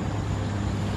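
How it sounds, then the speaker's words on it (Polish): Water washes steadily in the background at sunset in Thailand, a soft continuous rushing with a low rumble, unbroken and without voices. "słychać w tle wodę"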